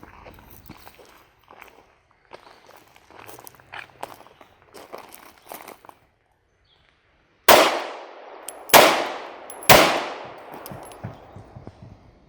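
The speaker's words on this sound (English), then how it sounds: "I'm going to stand a little bit back and shoot my gun through the purse from a distance" A handgun is fired through a purse at a target outdoors, giving three loud, sharp gunshots in quick succession with ringing decay, after a stretch of soft shuffling, clinking handling noises.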